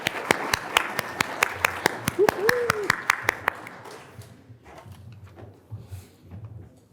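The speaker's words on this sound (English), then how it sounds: "Let's give a vibrant round of applause for our faculty who are celebrating 40" A burst of crowd applause at a faculty awards ceremony, with sharp, rapid claps at the start that thins out and fades over several seconds, leaving a quieter murmuring room.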